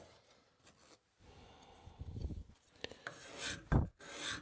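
A curved cabinet scraper shaves a test piece of wood clamped in a vise, giving a few short, close rasping strokes with brief pauses between them, the last strokes louder and scratchier.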